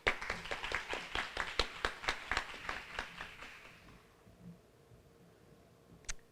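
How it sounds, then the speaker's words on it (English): A small audience at a nursing white coat ceremony claps in a brisk, evenly spaced run of about a dozen sharp claps, fading out after four seconds into near silence with a faint knock at the end. "So please give her a round of applause."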